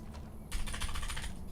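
Rapid clicks from a computer keyboard's B key sound repeatedly, a quick run of soft close taps starting halfway through over faint background hum.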